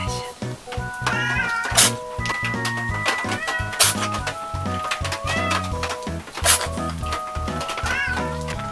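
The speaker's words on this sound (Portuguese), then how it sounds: "Os gatos estão chorando de fome." Several hungry cats meow and cry insistently, with overlapping tonal wails and sharp repeated calls close by, some high, loud yowls standing out. Short bursts of human voice and other chatter sound beneath them.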